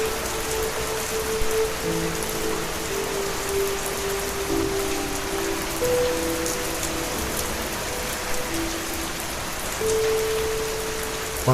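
Steady rain patters on a surface in an animated village story, a soft, even downpour heard alone with faint tonal music underneath throughout.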